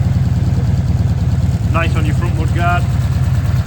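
A 1984 Honda V65 Magna motorcycle idles with a steady, loud, throbbing low rumble, its pulsing exhaust beat even throughout while someone speaks briefly over it.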